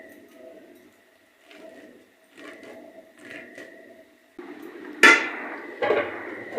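A knife finely chops leafy vegetables on a board: soft, regular cutting taps about once a second, ending in a louder clatter and busier knocking near the end.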